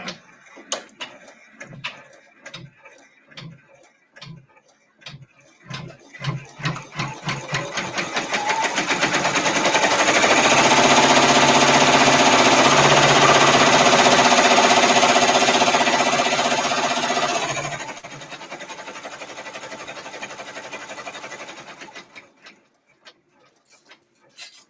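A multi-needle embroidery machine stitching a present design, starting with spaced ticking stitches that speed into a steady loud mechanical whir for several seconds, then dropping to a lighter running hum before stopping.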